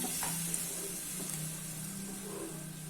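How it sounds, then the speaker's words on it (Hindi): Water poured into a hot masala in a pan for a rohu fish curry, giving a steady loud sizzle and hiss with faint stirring, no talking. "अभी इसमें 1 ग्लास वाटर ऐड कर लेना है, और मिक्स कर लेना है"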